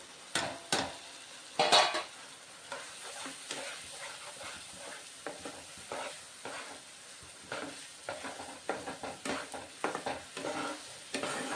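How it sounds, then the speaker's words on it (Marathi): Masala with salt and coriander-cumin powder roasting in a pan, with repeated scraping and clinking strokes of a spatula against metal over a quiet sizzle, close and uneven in rhythm. "मसाला छान भाजून घेते"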